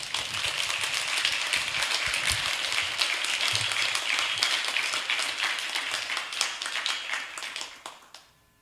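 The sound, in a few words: audience applause welcoming a speaker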